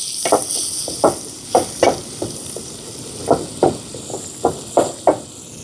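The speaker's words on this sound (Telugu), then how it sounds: "ముందుగా పచ్చిమిరకాయలు ఉల్లిపాయలు వేద్దామండి." Green chillies and onions frying in hot oil in a village-style kitchen, a steady sizzle under repeated sharp clacks of a spoon stirring against the pan, close and fairly loud.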